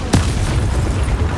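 A Confringo spell blast in Hogwarts Legacy lands as one loud, close explosive boom with a sharp attack, followed by a heavy rumbling tail that holds for about a second.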